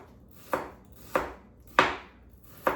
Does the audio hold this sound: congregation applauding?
no